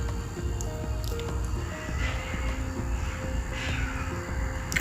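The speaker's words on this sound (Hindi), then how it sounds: "लगातार हम चमचा हिलाते रहेंगे" A spoon keeps stirring custard into sevaiyan vermicelli with soft, wet squishing and scraping that runs steadily and close, with no voices.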